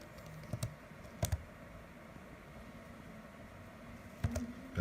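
Sparse computer keyboard keystrokes as a CAPTCHA is typed in, a few quiet clicks in small bursts separated by pauses, faint and close over a low steady background hiss.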